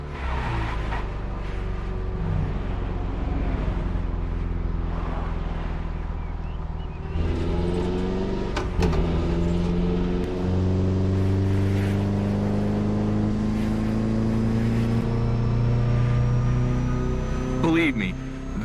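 A Mitsubishi inline four-cylinder car engine in The Crew Motorfest hums steadily, then its pitch rises and holds at higher revs, all under someone talking throughout.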